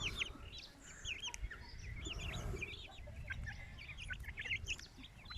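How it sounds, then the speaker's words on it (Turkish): Five roosters and five hens, Indian game fowl, clucking and crowing in a busy flock, with repeated short calls scattered throughout, moderately close. "Beş horoz, beş tavuk."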